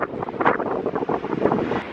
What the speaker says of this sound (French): Je vais me mettre là à l'abri du vent.